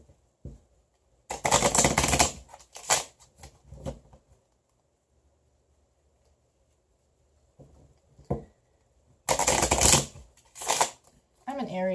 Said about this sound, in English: Maybe I should shuffle a bit more.